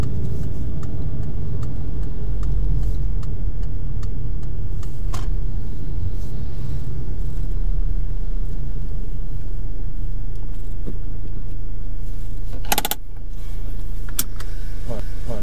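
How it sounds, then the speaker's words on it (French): Car engine idling and rumbling inside the cabin during a driving test, a loud steady low drone with occasional clicks and a brief mechanical whir near the end. "je vous laisse éteindre le moteur"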